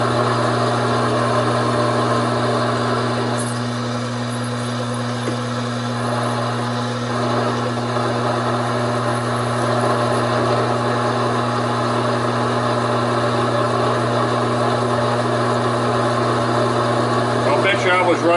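A Taig lathe runs at 330 RPM with a steady, continuous motor hum and whine, holding constant tones throughout at close range, with a few faint clicks and rattles near the end.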